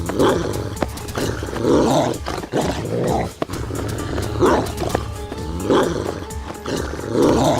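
A dog growls and snarls fiercely in a chase, with loud, rough, sustained growling bursts close by across several seconds.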